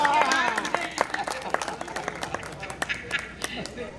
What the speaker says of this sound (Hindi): तो एक बार आप अपने लिए ताली बजाइए।